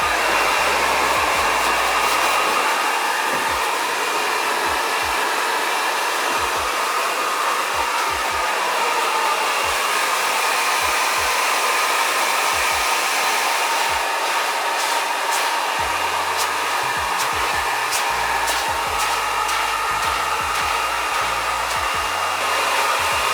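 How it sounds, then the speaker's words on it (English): A GHD blow dryer rough-dries hair, producing a loud, continuous whooshing roar that runs steadily throughout, with occasional rustling bursts as the airflow moves through the hair and no talking. "now we're gonna go in and dry the hair, just rough dry it with the GHD blow dryer."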